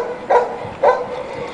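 An English bulldog gives two short, gruff barks about half a second apart, close and fairly loud, with no voices in between.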